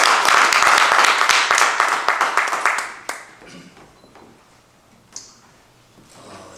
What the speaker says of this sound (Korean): 우리 한번 뜨거운 박수 부탁드리겠습니다.